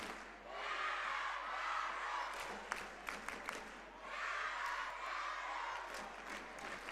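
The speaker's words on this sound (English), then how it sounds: "a nice little crowd here, and you can hear how loud they're getting as they support this Eunice Cardinals team" A small crowd at a high school basketball game cheers for the Eunice Cardinals, rising in two loud swells of shouting and whooping with scattered claps and sharp thuds in between.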